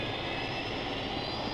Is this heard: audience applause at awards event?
no